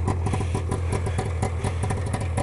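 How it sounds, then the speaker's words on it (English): A 1995 Arctic Cat Panther Deluxe snowmobile with a 440 two-stroke twin engine runs steadily close by, a rough buzzing drone with a clattering pulse. No one speaks. "It's a 95 Arctic Cat Panther Deluxe. It's got a 440 two-stroke engine."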